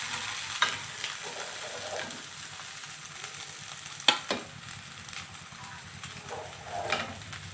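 Egg fried rice with tomato stirred and frying in a pan, a soft steady sizzle with a few sharper scraping knocks of the spoon, close and moderate in level with no talking.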